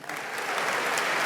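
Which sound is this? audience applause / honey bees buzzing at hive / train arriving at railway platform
audience applause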